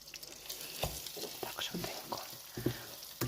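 Meat frying in a pan with crackling sizzle and scattered pops, plus irregular scraping and stirring sounds close by, no talking.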